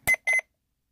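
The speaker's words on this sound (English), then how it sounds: "Oops, and it shouldn't have beeped like that." Ila talking atomic alarm clock giving two short electronic beeps, close and clear, the second slightly longer, followed by silence.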